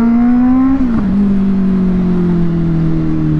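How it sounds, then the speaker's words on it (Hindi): Honda CBR650R superbike engine and exhaust revving loudly and continuously, a steady harmonic drone that dips briefly in pitch and then holds, alone with no talk. "क्या आवाज है भाई बाज़ूका की यार, सीरियसली आप सिर्फ सुनो भाई।"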